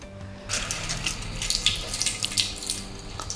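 Food being washed under a running kitchen tap, a steady close splash and hiss of water with shifting spatter as the food is turned in the stream.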